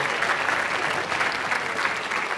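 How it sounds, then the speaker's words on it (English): An audience at a school band holiday concert claps in a full, even round of applause that carries on steadily without any speech. "So can we give a nice round of applause to Anthony and his crew up there?"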